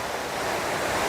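Chinakallar Falls waterfall in Valparai roars as a steady, loud, unbroken rush of falling water close by, with no voices.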